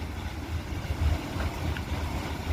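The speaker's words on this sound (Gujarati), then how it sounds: "ટ્રેક્ટર આવ્યું ઓલ્ડ મેસી" An old-style Massey tractor engine runs nearby, a steady low, throbbing rumble with some wind noise.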